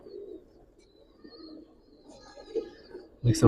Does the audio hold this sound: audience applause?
no